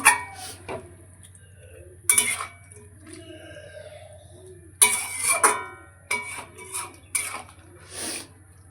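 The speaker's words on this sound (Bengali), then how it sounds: "ভালো করে এবার মিশিয়ে দিচ্ছি" Tomato and spices being stirred in a pan for a home-cooked bean (shim) dish, with intermittent scraping and clinking of a utensil against the pan in short bursts between quieter gaps.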